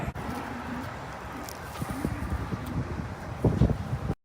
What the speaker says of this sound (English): It's windy, but it feels so good.